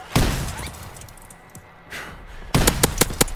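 Gunfire rings out in a WWII video game Gun Game match: a single sharp shot early, a quieter lull, then a rapid burst of loud, closely spaced shots at the end.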